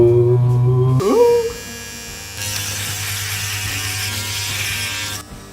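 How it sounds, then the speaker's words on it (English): An electric shaver running on a face, a loud steady buzzing hum that shifts pitch as it presses against skin, then continues with a harsher rasping buzz before stopping abruptly. "An electric shaver is always better than a normal shaver."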